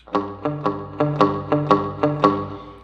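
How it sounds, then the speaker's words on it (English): Cigar box guitar played with palm-muted strings and a pick in alternating down and up strokes, giving eight short, thumpy plucked notes in a steady rhythm, close and clear, each one dying away quickly. "just to mute the strings so you get that thumpy sound"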